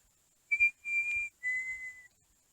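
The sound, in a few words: whistled imitation of chickadee song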